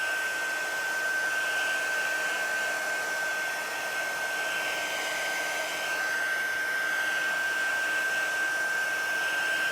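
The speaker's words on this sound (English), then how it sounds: "Excuse the noise of the heat gun." Steady, loud rush of hot air from a close heat gun used on resin, constant throughout with a faint high whine and no talking.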